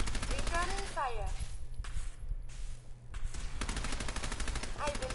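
Rapid automatic gunfire crackles through a firefight in Fallout 4, sustained bursts dense and loud with a short lull in the middle, while voices call out over the shooting.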